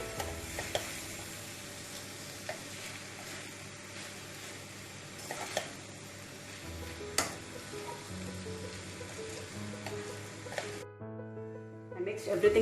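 Schezwan chicken fried rice being stirred and tossed in a hot pan, a steady sizzle with scraping and clinking of the spatula against the metal throughout, ending in a few louder knocks.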